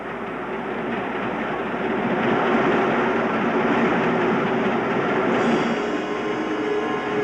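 A passenger train rumbles steadily along the tracks, a loud continuous roar with a faint rhythmic clatter, close by and without voices.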